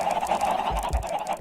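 Chickens in the video game Minecraft, a short run of nasal, honking clucks repeating close and loud, with no talk over them.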